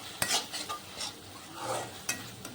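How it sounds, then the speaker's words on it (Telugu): Ginger garlic paste fries in oil for a fish curry as a spoon stirs it, giving quiet sizzling under a few sharp metal scrapes and taps against the pan. "ఇప్పుడు ఇది బాగా కొంచెం ఉడకాలన్నమాట, ఫ్రై అవ్వాలి ఆయిల్లోని"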